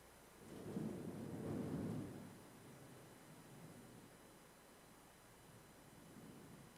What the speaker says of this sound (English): And I have the beautiful sound of thunder around me. No rain, just thunder.